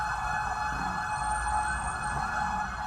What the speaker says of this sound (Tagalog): Sunod-sunod ang dating ng mga fire truck mula sa Karatig Lungsod.